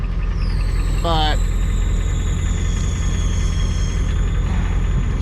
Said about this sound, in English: the truck's belt is squealing